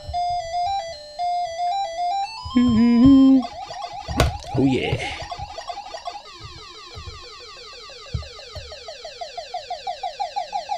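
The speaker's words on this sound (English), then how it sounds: "Oh, I found the Pac-Man game." Bright electronic Pac-Man tones from a mini arcade machine: stepped beeping melodies, a rising sweep, then a fast repeating warble, loud and continuous, with a brief voice near the middle.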